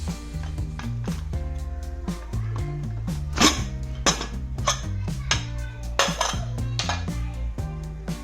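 After two whistles, a pressure cooker holding chicken for kabsa is opened with a series of sharp metallic clanks and clinks of the lid and pot, spread irregularly over steady background music.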